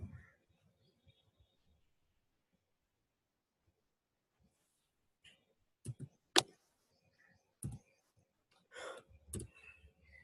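A few sharp, quiet computer mouse clicks spaced irregularly in the second half, after a near-silent stretch with faint breathing.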